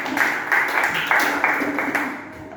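A class of children claps together in quick, fairly even bursts of hand claps, close and loud, for a few seconds.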